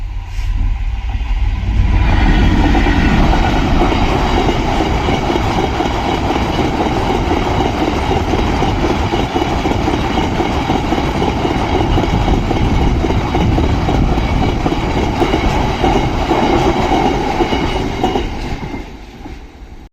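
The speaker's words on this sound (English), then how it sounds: "Surely like a goods train or something." A goods train rumbles loudly and close past a level crossing on the Pontefract line in Yorkshire. The heavy, steady roar of wagons and rhythmic wheel clatter lasts nearly twenty seconds before fading at the end.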